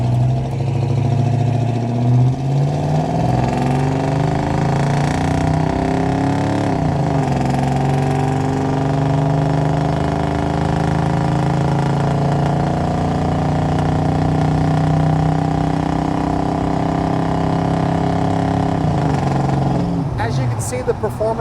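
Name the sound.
1987 GMC Sierra truck with original 350 engine driving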